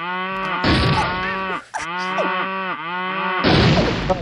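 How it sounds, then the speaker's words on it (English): Cartoonish cow moos from the Worms Armageddon video game, several loud drawn-out bellows in quick succession with brief gaps between them. "A lot of cows."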